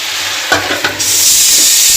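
Garlic and chili tempering hisses loudly in a hot pan while being stirred, with a few quick scraping stirs before the sizzle swells into a steady, close, bright crackle.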